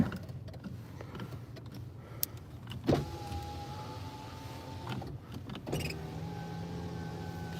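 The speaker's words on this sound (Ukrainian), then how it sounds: "Підйомники відразу всі." Skoda Octavia power windows all running at once, a steady electric motor whine rising and shifting over several seconds, with a couple of clunks as the windows stop and restart, close inside the car.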